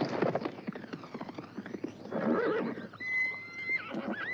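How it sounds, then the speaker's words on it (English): A horse whinnies loudly and shrilly, a rising and falling neigh, then another high call follows, with hooves shuffling and clopping close by. "Stop that horse!"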